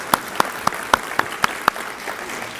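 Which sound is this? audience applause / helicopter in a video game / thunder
audience applause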